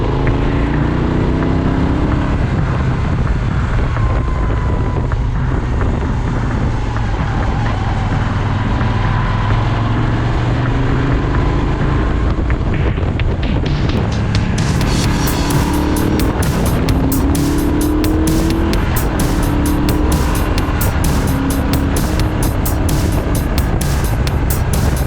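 Steady, loud engine and wind roar from a motorcycle ridden along a scenic windy hill road in New Zealand, a continuous drone with buffeting wind noise throughout and no talking.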